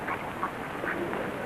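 Several ducks quack nearby in a small, irregular cluster of nasal calls over a murky indoor background hum.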